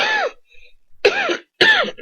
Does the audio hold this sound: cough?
yes